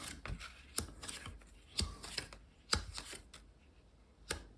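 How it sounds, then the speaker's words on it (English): A tarot card deck is cut and handled, producing a series of soft, crisp card snaps and riffles at irregular intervals, close and quiet with no speech. "Let's just cut the deck and find out."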